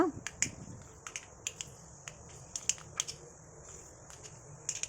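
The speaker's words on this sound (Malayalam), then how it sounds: "ഒരു ചീനച്ചട്ടിയിൽ 2-3 ടേബിൾ സ്പൂൺ വെളിച്ചെണ്ണ ഒഴിച്ച് കടുകിട്ട് അര ടീസ്പൂൺ കടുകിട്ട് പൊട്ടിക്കുക" Sharp, irregular pops and crackles of mustard seeds in hot coconut oil in a pan, scattered bursts over a low steady hiss.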